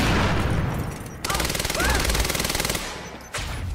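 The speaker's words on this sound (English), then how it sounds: "The guy's only throwing grenades." Gunfire and grenade blasts in the action video game Quantum Break, a loud rattling burst of rapid automatic shots followed by a sudden heavy boom, with an ongoing battle din throughout.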